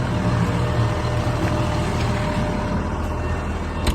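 A CLAAS tractor engine runs steadily with a loud, constant low rumble and drone heard from close up, with no break and no voices.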